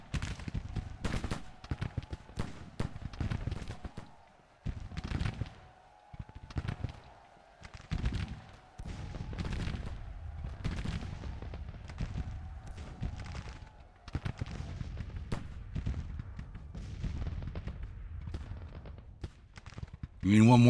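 Repeated volleys of musket gunfire ring out across a Grand Tactician: The Civil War battle, irregular bursts and crackling shots rolling on under shouted commands and voices.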